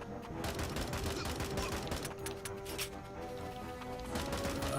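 Rapid bursts of gunfire and machine-gun fusillades in the top-down shooter game Tango Fiesta, dense and continuous with sharp cracks throughout, with a voice faintly audible beneath.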